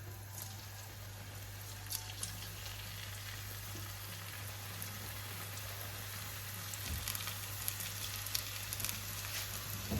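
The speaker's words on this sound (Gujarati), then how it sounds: "હવે આપણે એને ધીમા સાથે આપણે સમોસા તળવા માટે મૂકી દઈએ." Samosas fry gently in hot oil over low heat, giving a steady, soft, continuous sizzle with faint scattered pops and crackles and a low constant hum beneath.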